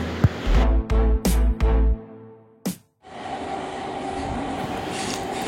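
Train sound effect of a carriage rolling along the rails: a few loud rhythmic thumps of wheels over track joints, then a short pause and a steady rumbling roar of the moving train, with no talk.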